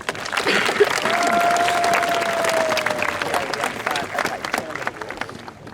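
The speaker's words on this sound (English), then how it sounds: "Graduates, let's give our families a round of applause." A large crowd at a high school graduation claps and cheers, with a sustained whistle early on; the applause swells then gradually thins out.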